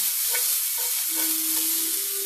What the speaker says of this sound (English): we're gonna let those onions just start to soften a little bit